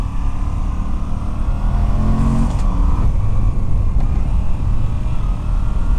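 A 2019 Moto Guzzi V85TT mid-capacity adventure motorcycle out on a ride, its engine a loud, continuous low rumble mixed with heavy wind roar, with one brief rise in engine pitch partway through.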